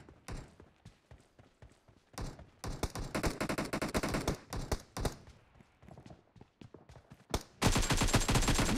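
Gunfire in the mobile game PUBG Mobile during a team deathmatch, with scattered single shots building into dense automatic bursts and a loud sustained volley at the end, heard with no talking.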